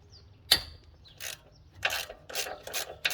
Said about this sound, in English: Remove the sway bar end link bolt, which is a 16mm